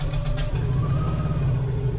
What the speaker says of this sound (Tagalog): maingay lang yung tunog niyan dahil nga naka-aftermarket home pipe